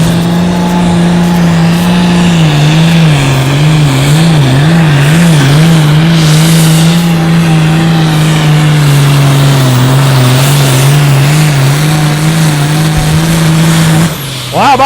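Super farm class pulling tractor at an outlaw tractor pull in Madison, South Dakota: a loud, continuous high-powered engine roar with wavering pitch, sustained close and steady for the whole run before cutting off at the end.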